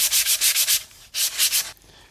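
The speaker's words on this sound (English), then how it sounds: "we want to start by first sanding all the, I call it getting all the shine off of the tube" Sandpaper of 120 grit scuffs the shine off a model rocket motor mount tube in quick, even back-and-forth strokes, loud and close, two bursts split by a short pause, with nobody talking.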